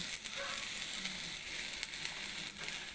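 Garlic sautés in a pan with a soft, steady sizzle, faint and continuous, with no voices over it.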